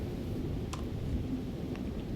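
Thunderstorm in the video game Rain World, a heavy low rumble of thunder and steady rain with a couple of brief crackles.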